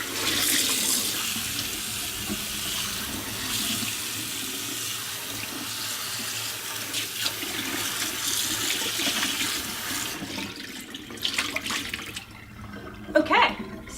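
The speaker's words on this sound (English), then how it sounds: "I'm gonna quickly rinse it." A pan is rinsed under a running kitchen tap, a steady broadband rush of water that holds for about ten seconds, then breaks into splashier, uneven spatters near the end.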